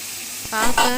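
Onions frying in a hot pan for spicy egg fried rice give a brief burst of sizzling, with a stir-like scrape and crackle rising halfway through this short, close moment.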